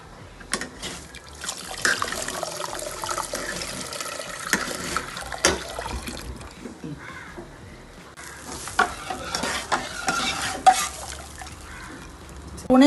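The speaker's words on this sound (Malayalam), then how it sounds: "നമ്മൾ വെല്ലം ഇത് നന്നായി ഉരുകിയിട്ടുണ്ട്. അത് ഞാൻ അരിച്ചിട്ട് പായസത്തിലേക്ക് ഒഴിക്കുന്നുണ്ട്." Melted jaggery syrup is strained and poured into a green gram and dal payasam, a soft liquid trickle and stirring clatter in a kitchen, fairly quiet with occasional utensil knocks.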